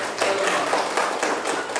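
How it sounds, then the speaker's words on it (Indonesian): A class of students claps together in a room, a quick run of fairly even, bright claps that blur into light applause and go on for a couple of seconds. "tepuk tangan dulu ya"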